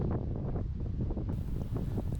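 Strong gusts at Bayview State Park in Washington State batter the microphone with heavy, low rumbling buffets that pulse unevenly and loudly throughout.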